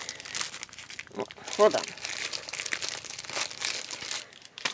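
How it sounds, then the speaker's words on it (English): Stacked paper doilies crinkle and tear as they are peeled apart, close crisp rustling bursts with a voice speaking briefly in the middle. "You have to grab like 10 of them and peel them apart"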